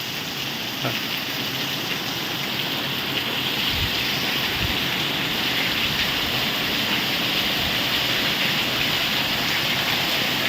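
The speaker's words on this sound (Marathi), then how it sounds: "पावसाने पुन्हा जोर पकडला आता" Heavy monsoon rain pouring steadily around a village house in Mahad, a dense, constant loud hiss with no pauses and no voices.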